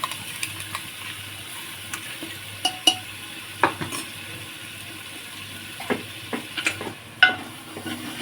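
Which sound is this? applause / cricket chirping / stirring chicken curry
stirring chicken curry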